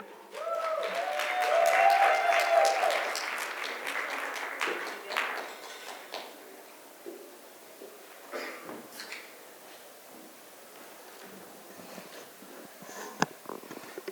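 Audience applause at the 2026 Impact Summit on immigrant rights greets speaker Sunu Chandy, a loud swell of clapping in a hall that peaks then tapers into scattered claps, coughs and murmurs.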